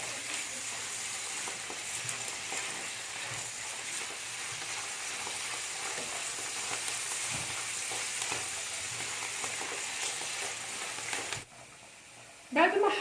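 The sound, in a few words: minced turkey and mushrooms frying while stirred in a pan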